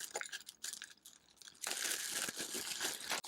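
A plastic packaging bag holding a hiking backpack crinkles and rustles close up, starting in short bursts and turning into a loud, continuous crumpling and tearing.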